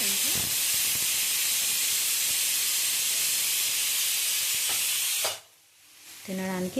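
A pressure cooker venting steam during cooking, a loud continuous hiss that cuts off abruptly near the end before faint clinks follow.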